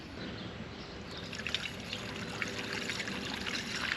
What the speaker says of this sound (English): So we're going to pour in until we get to the max line on the reservoir.